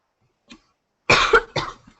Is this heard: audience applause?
no